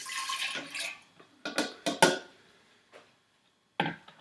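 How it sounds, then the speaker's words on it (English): Fresh lemon juice, about a cup squeezed from four lemons, poured from a container into a vessel, with a splashy liquid stream followed by several short clinks and bumps of the container. "All 4 of those lemons made a cup of lemon juice. So just pour it in."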